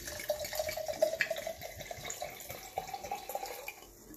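Semillon Sauvignon Blanc wine poured from a bottle into a glass, a soft steady trickling splash with faint gurgles, quiet and close, ending as the pour stops.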